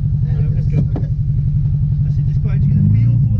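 A real rally car engine drones loud and close in a steady pulsing rumble with rising revs toward the end, while a person talks over it.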